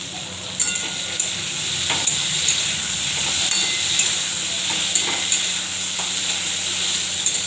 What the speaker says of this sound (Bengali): কুদুলি ভাজা হয়ে গেছে